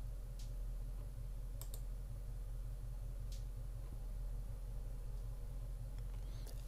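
A few sharp, sparse computer mouse clicks sound over a steady low hum while working in Pinnacle Studio Pro video editing software, faint and close.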